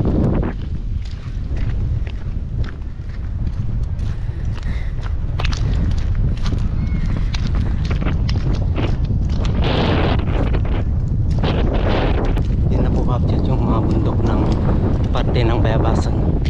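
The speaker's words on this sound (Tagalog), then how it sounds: "malakas ang hangin dito" Strong wind blowing across a very wide river near Bayabasan, buffeting the microphone with continuous loud gusty rumble for the whole stretch, while a person talks throughout.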